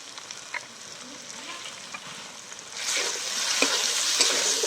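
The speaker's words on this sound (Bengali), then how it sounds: "সবগুলো খুব ভালো করে আমি কষিয়ে নেব" A spice masala of Kashmiri chili, cumin and coriander powder sautés in a pan for a village-style country chicken curry. A gentle sizzle with scattered spatula taps swells into a louder, fuller frying hiss halfway through.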